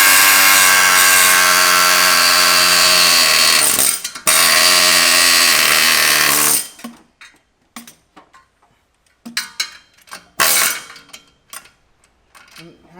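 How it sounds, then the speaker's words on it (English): An air chisel rattles against a seized nut on a 24-valve Cummins diesel engine, a loud continuous hammering buzz in two long bursts with a brief break, then stopping into scattered clanks and quiet. "So we'll be using this air chisel"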